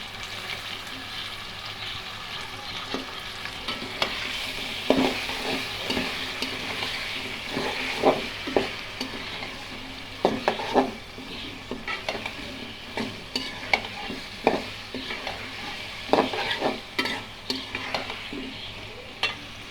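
Prawns frying in a pan with oil, sizzling steadily while a utensil stirs and scrapes in irregular clicks and clatters, close and moderately loud with no talking.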